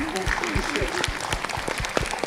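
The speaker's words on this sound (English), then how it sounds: "Please join me to thanking the panelists by giving them a round of applause" An audience claps for the panelists at the launch of ASEAN guidelines on child and forced marriage. The applause is a moderate, steady patter of hands, and a voice speaks over its opening moments.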